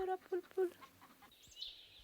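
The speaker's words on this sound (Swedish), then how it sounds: "15 höns och en tupp." Hens and a rooster on a farm at Katthult cluck in three quick, clipped notes, followed by softer scattered clucks and a faint high chirp against quiet farmyard background.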